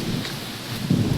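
A heavy unseasonal downpour lashes a garden beside a petrol pump on Dhari Road in Chalala, Gujarat, during a gusty mini-storm: steady loud rain roar with low thunder rumbles swelling near the end.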